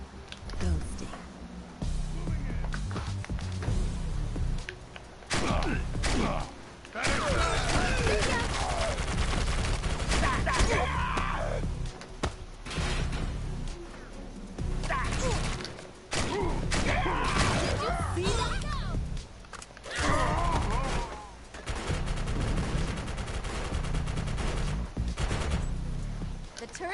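Sentry turrets open fire in a video game, sounding as repeated bursts of rapid gunfire broken by short pauses, with voices heard between and over the shots.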